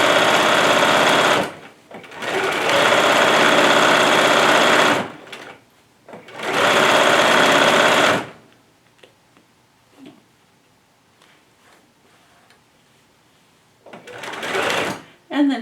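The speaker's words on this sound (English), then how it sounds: "continue sewing after I drop my presser foot" A sewing machine stitches fabric for a Valentine's Day bag in three loud, close bursts of whirring, with short stops between them. A quieter stretch follows with faint handling noises and a brief final burst.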